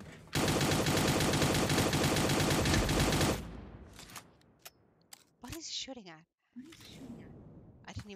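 Rapid automatic gunfire from a video game rattles loudly in one sustained burst of about three seconds, then gives way to quieter scattered game clicks and effects.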